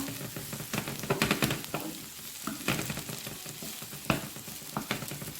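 Stir-frying in a pan with pork marinated in pineapple and coconut milk: broadband sizzling with repeated scraping and clattering bursts from stirring, close and fairly loud, with no talking.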